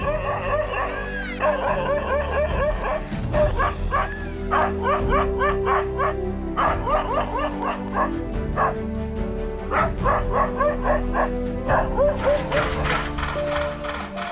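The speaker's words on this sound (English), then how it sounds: "it quickly regained its composure and fought back with relentless barking" A dog barks relentlessly at a leopard, with rapid, loud, repeated barks and yips in uneven bursts, close by, interspersed with a few whimpering cries over outdoor background noise.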